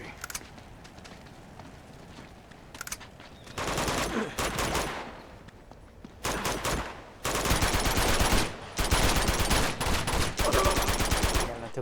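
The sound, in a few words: gunfire from the video game Uncharted 2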